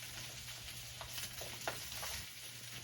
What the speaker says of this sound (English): those wings are sizzling away, getting closer